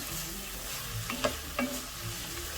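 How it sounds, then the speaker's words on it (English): Onion sautéing in a pan for a Thanksgiving dressing gives a steady, close sizzle, with two brief louder clatters of stirring partway through and no talking. "We're going to keep sauteing it until it's nice and translucent."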